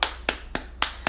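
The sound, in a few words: hand clapping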